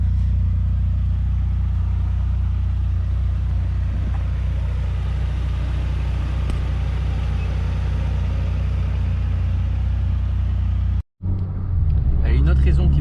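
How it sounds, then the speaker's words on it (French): A Peugeot 106 S16 with its period sport exhaust idles steadily, a loud, deep, continuous engine rumble held close for most of the span, briefly cut off before a rougher burst returns; someone speaks over it. "L'échappement sport d'époque"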